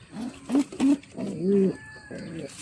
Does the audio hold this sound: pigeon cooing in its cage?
yes